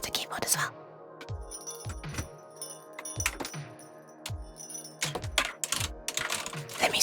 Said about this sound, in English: we've got to go to the quieter keyboard as well